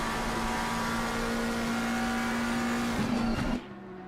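Onboard engine of the all-black number 25 McLaren GT3 race car in the iRacing sim racing game, a steady high drone at sustained revs that briefly wavers and shifts before dropping to a quieter tone.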